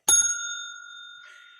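A single bright bell ding rings out close and loud during an indoor author interview, its clear metallic tone sustaining and slowly fading over more than a second, with no voices over it.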